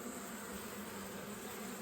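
Honey bees buzzing around a hive at a wedding venue, with a drone bee flying close by, a dense continuous hum that stays steady and fairly loud throughout, with no talk.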